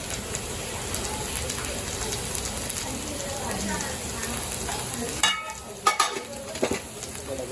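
Prawn masala sautéing in a pan gives a steady, close hiss and sizzle, broken near the end by a few clattering stirs of a spoon against the pan.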